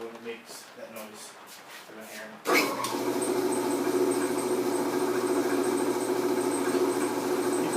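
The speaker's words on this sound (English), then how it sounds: "Now we're going to turn it on and see what it does when it makes that noise." A bandsaw motor switches on with a sudden onset and then runs steadily with a droning hum and a faint high whine, its wobbling lower motor making noise; talking comes before it starts.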